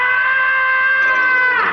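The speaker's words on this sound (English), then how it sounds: "So why is this yell funnier than an actual cat yell?" A human yell stands in for Tom the cat's scream in Tom and Jerry, a loud, sustained, steady-pitched cry that holds for over a second before cutting off sharply, heard alone.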